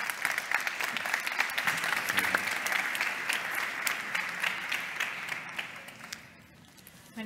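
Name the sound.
audience applause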